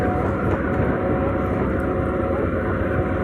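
A Motorstar Easyride 150N motorcycle engine drones steadily while riding, a continuous close hum with wind rush and no pauses.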